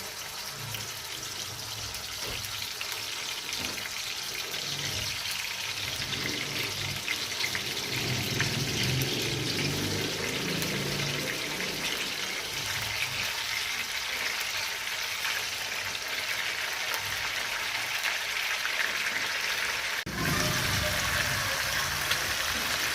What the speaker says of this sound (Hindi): अब मैं फ़िश फ्राई करूँगी।